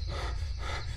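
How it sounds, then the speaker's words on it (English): Heavy rhythmic panting of a character in a surreal first-person video game, close and loud, with quick breathy in-and-out puffs repeating across the short moment, no talk. "I don't know why I'm like panting so heavily."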